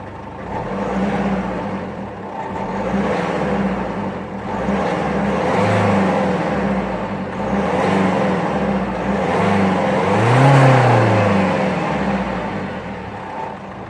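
A 2007 Citroen C4 Picasso diesel engine revs repeatedly from idle, several rising and falling surges heard up close and loud, with no voices.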